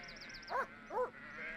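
Sheep bleating twice in quick succession, two short wavering calls close by, with faint chirping birds in the background.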